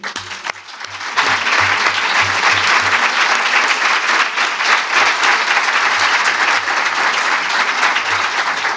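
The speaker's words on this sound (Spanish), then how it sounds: "yo creo que esto de verdad merece otro aplauso" Audience applause at the close of a conference evening, a brief patter of a few claps swelling into loud, sustained clapping from a full room that holds steady for several seconds.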